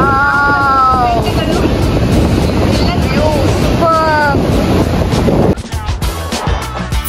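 Strong wind on a beach under a rain red alert roars steadily and loudly into the microphone, with surf churning beneath it and brief voices rising through the gusts.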